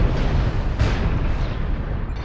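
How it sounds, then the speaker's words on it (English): A clan LBX autocannon firing in MechWarrior Online, a dense rumbling stutter of rapid blasts that runs loud and unbroken through the whole short burst. "The clan LBXs have that stutter firing thing going on"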